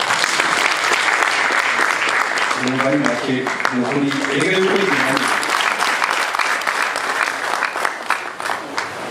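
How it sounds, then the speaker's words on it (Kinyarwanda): Loud, continuous applause from an audience at a Rwandan dowry ceremony, dense clapping that lasts throughout and gradually thins toward the end, with a voice speaking over it. "reka nimwongere amashyi"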